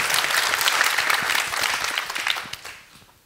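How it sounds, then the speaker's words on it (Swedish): Audience applause at a startup event, dense and steady clapping from a crowd that fades out over the last moments. "Ska vi börja med en applåd där också?"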